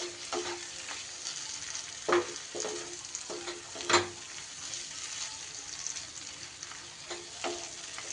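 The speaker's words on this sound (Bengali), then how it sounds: "গ্যাসের ফ্লেমটা লোতে রেখে খুব ভালো করে আমার মশলা কষিয়ে নিতে হবে" Salted masala fries in a pan over a low gas flame, a soft, steady sizzle close by, with occasional spatula scrapes and taps as it is stirred.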